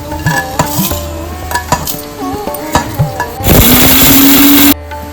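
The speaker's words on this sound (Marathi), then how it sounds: "भाजलेला खडा मसाला मिक्सरमध्ये वाटून घेऊया" A mixer grinder grinds roasted whole spices for mutton biryani in one short, loud whirring burst that spins up and cuts off abruptly, following a stretch of quieter tonal kitchen sounds.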